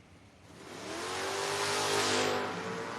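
Mustang door car launching down a drag strip, a loud engine roar that swells and climbs in pitch over a few seconds before easing, with no voices.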